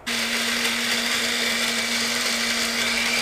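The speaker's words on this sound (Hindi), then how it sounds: "अब इसमें हम बाकी बचा हुआ दूध और इसको फिर अच्छी तरह से ब्लेंड करेंगे" A blender whirs steadily at full speed, blending a peach and plum shake with milk and ice, one continuous loud motor drone with no pauses and no voices.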